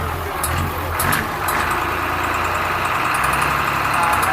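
An old Ashok Leyland bus diesel engine idles after a cold start following many years of disuse, giving a steady, close, uneven rumble with no talking.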